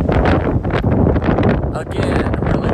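Strong wind buffeting the microphone on the fog-covered summit of Goose Eye North in Maine, a loud continuous roar with gusty swells and a person talking over it.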